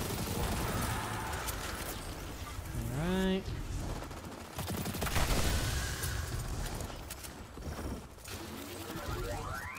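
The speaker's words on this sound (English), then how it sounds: "That guy was just shooting into the air." Gunfire in the video game Destiny 2: Into The Light, heard as scattered bursts of rapid shots mixed with whooshing, rising synthetic game effects and mechanical clatter, at moderate loudness throughout.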